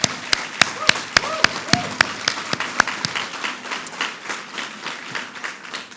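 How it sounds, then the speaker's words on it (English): Audience applause for Governor Cuomo at a public announcement event, with dense, steady clapping throughout, sharp individual claps standing out near the start, then a gradual fade. "Let's give him another round of applause."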